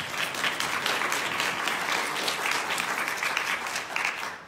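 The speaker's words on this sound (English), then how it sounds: "I think we owe them a real round of applause" Sustained applause from a packed conference audience at a diabetic foot medical event in Sinaia, Romania, steady and dense throughout without a break.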